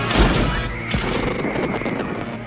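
A loud gunshot crack from an Arnold Schwarzenegger action scene in the film Last Action Hero, a sharp blast followed by dense rumbling action noise and a further thump, filling the short excerpt.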